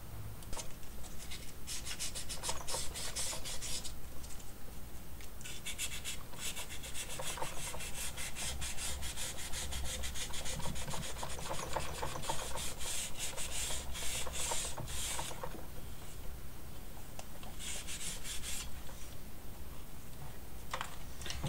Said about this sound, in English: I got a lot of these rails sanded